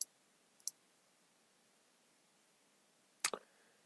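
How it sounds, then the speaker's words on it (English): A mouse cable plugged into a laptop: sharp plastic clicks, one short pair early on, then a louder double click near the end, against near-silent background. "And then put the mouse cable in."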